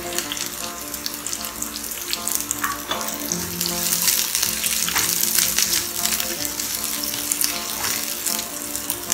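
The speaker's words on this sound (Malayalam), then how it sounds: "വെളുത്തുള്ളി ഒന്ന് വഴറ്റണം, പക്ഷെ ബ്രൗൺ ആകാതെ ശ്രദ്ധിക്കണം" Garlic and sliced shallots sauté in a pan with a loud, dense, continuous sizzle, close up, with faint clatter and rustling of stirring throughout and no talking.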